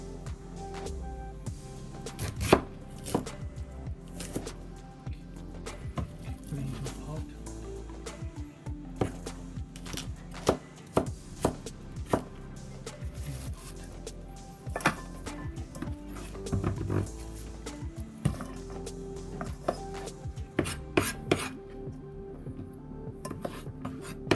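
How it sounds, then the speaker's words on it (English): Knife chopping spring roll filling finely on a cutting board, a long run of irregular close knocks and clicks with some clattering of utensils, no talking. "just cut it small, as small as possible"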